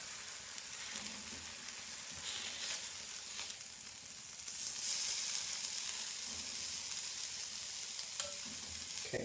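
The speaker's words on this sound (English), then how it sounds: "a little bit of golden brown searing on that" Food sears in a frying pan while making a breakfast sandwich, a continuous close crackling sizzle with scattered pops and a brief louder burst midway, no talking.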